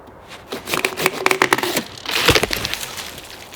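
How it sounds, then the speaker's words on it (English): Large dead tree branch cracking and splintering as it breaks off in snowy winter woods: a burst of sharp crackles and snaps, then a heavier crunching break, close and fairly loud. "Okay, I hear it cracking, it's gonna go."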